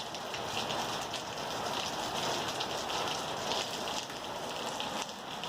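Hard rain pours down steadily in Green Valley during a pop-up afternoon thunderstorm, a dense, even hiss of heavy drops that holds at the same loud level throughout, with no voices.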